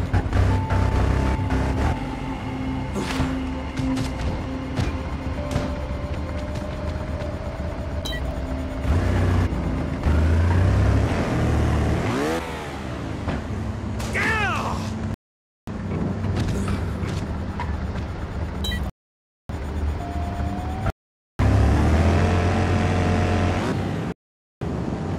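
Motorbike engine revving and accelerating up a steep hill in the Xbox One trials game Trial Fusion, a steady droning whine that rises and falls in pitch, broken by several abrupt silent cuts.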